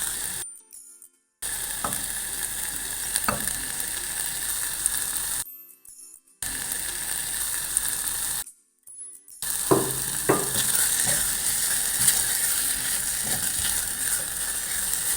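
Beef strips sizzle and fry steadily in a pan, a continuous crackling hiss broken by a few brief gaps and occasional clinks of stirring.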